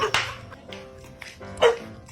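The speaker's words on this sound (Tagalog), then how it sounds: "May aso." A dog barks a couple of times nearby, two sharp yaps separated by a pause, with faint background noise between them.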